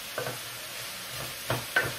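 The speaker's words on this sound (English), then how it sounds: "Everything's sizzling." Vegetables sizzling in hot frying oil, a soft continuous crackle with a few scraping stirs breaking through.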